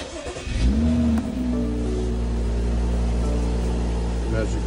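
A BMW N55 engine in a 2018 X5, just primed after oil circuit work, cranks briefly and fires, then settles into a steady close idle hum with faint talk behind it.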